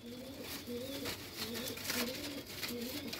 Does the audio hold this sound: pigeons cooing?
yes